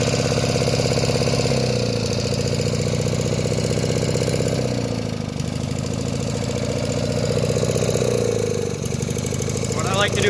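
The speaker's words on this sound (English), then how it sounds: "Idle down for a couple minutes." An engine-driven welder running and idling down, a steady loud mechanical drone with shifting pitch throughout, with a voice talking over it.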